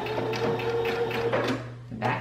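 A sewing machine stitches around the casing of a fabric storage bag in short, close mechanical runs, its needle rattling in a rapid rhythm over a steady motor hum.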